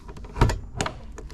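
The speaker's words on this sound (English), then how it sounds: "when you open your door" A Land Rover Defender door with an ORE wheel carrier fitted opens, giving a couple of fairly quiet mechanical clunks and a latch release close by, with soft handling noise in between.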